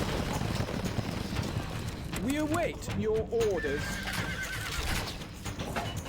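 Horses neigh and whinny in the strategy video game Stronghold, with rising and falling calls in the middle and a faint clip-clop of hooves, all under a voice speaking.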